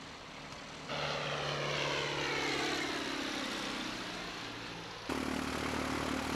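A Bulldog propeller training aircraft at Ljungbyhed gives a steady, droning engine and prop hum with shifting pitch as it flies, fairly close and without voices.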